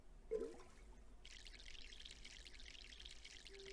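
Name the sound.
watering a plant in the video game My Sims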